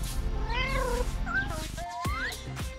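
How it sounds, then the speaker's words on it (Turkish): Kittens meow several times nearby, with high, rising and wavering cries that follow one another in quick succession. "Yavru kediler benim olacak."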